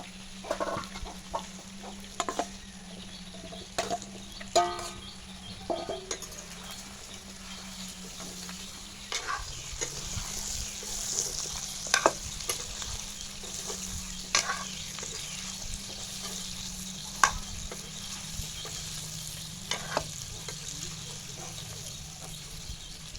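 Pork and potatoes frying in a pan, a steady low sizzle broken by repeated clattering scrapes of stirring, close and moderately quiet, with no voices.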